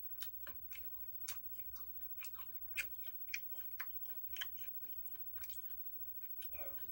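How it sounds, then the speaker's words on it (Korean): Food is chewed close to the microphone with a series of crisp, irregular crunching bites and wet mouth sounds repeating over several seconds, quiet overall. "오래 씹어줘야 돼, 이게."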